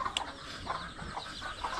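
Sick chickens clucking in a backyard, a few short soft clucks scattered over steady low background noise, fairly faint and without talk.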